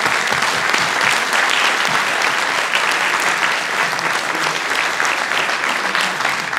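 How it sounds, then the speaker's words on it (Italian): Loud, close, dense applause from a crowd at a mayoral election rally in Civitavecchia, many hands clapping vigorously and continuously throughout, with a few faint voices mixed into the ovation. "Un grande applauso per Carlo"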